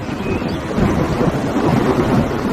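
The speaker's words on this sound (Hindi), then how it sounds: "तभी तेज बारिश शुरू हो गई।" Heavy rain suddenly begins pouring in a jungle scene of a Hindi animated cartoon, a dense, steady roar with low rumbling like distant thunder and wind, continuous and loud throughout with no voices.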